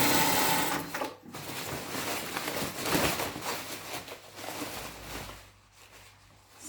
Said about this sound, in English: Nice back stitch at the beginning so nothing starts coming out then.